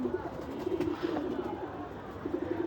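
Pigeons coo in soft, repeated low bursts close by, with a faint background hum.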